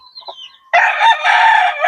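A rooster crows loudly on a gamefowl farm at morning feeding time, preceded by softer clucks and chicken calls, the crow ringing out close and sustained over the last second.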